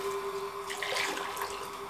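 Water poured into a glass holding sabja seeds, a steady close splashing pour running the full moment, alone and with a faint tonal hum behind it.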